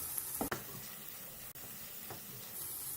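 Boiled grated potatoes being mixed with salt in a pan, heard as a quiet, steady sizzle broken by a couple of soft spatula scrapes and taps, close by, with no voices.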